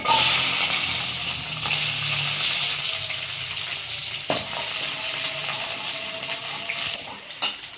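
Steady oil sizzle from small shallots frying, with bursts of crackling and a few sharp clinks partway through; no talking.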